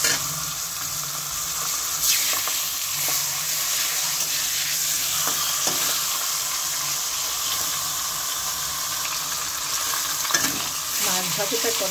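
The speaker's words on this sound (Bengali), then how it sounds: "মাছ ভাজাটা করে নিচ্ছি।" Hilsa fish head fries in a pan, giving a steady, close sizzle with occasional scraping as it is stirred. The sound runs continuously through the clip with no talking.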